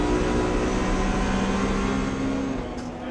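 Race cars, including a BMW Cup car, drive on the Assen circuit, their engines a steady loud drone with no clear pass-by peak.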